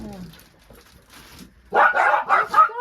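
A dog barks in quick bursts, three or four loud close barks arriving after a stretch of quiet talk and faint whines.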